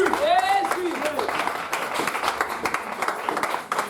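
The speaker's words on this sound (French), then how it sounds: "On acclame la parole de Dieu." A church congregation applauds in a steady patter of many hands clapping. Voices call out over the clapping at the start.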